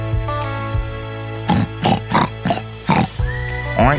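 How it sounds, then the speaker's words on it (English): A pig oinking in a rapid run of about five short, loud, raspy grunts, set against a sustained tonal drone that breaks into a rising squeal at the end. "Oink, oink, says the pig."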